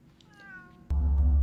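A cat gives a single drawn-out meow, clear and fairly close, followed by a sudden burst of low rumbling noise.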